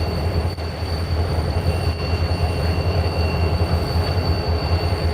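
A freight train rolls past Coffey's Cliff, its cars rumbling loud and steady at close range with a constant metallic hum and faint wheel squeal throughout.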